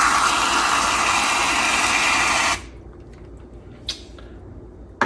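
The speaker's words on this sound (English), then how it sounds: "you can go ahead and squirt that on top" Reddi-wip whipped cream sprays from a can onto a low-calorie holiday cocktail as a loud, steady hiss that cuts off abruptly midway, followed by faint clicks and a quiet background.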